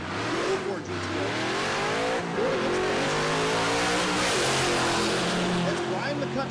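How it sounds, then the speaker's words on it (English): A 2004 GTO drag car with a Hellcat-supercharged LS3 V8 roars close by at a drag strip, its engine pitch rising in repeated gear-change sweeps as it accelerates, with a voice talking underneath. "The left lane, the GTO. Being told that that is an LS3 with a Hellcat supercharger."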